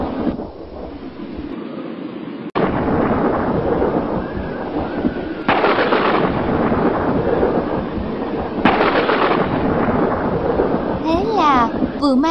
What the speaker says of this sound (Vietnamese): Cơn mưa đầu mùa xối xả, mưa ào ào như đút nước.